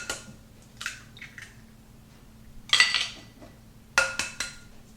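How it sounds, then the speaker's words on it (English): Three eggs are cracked into a medium bowl in a kitchen, giving a few sharp taps and clinks against the bowl with soft wet squishes in between. The sounds are close, spaced out and come alone with no talking. "I'm going to crack 3 eggs."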